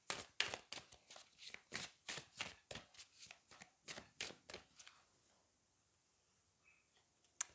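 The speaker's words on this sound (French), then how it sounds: "allez, on va prendre une carte du Loputin Oracle" Oracle cards are shuffled by hand in a quick, regular run of about fifteen crisp riffling snaps close to the mic, then the handling stops and only faint room quiet remains.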